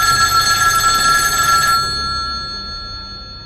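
A telephone bell rings with a bright, close trill for a couple of seconds, then stops and leaves a fading tail of the tone.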